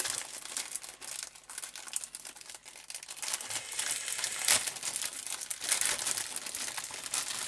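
Plastic packaging and cardboard of a Lamborghini Countach LP 400 model kit box crinkle and rustle continuously up close as the box is opened, with a few sharper tearing crackles and no talking.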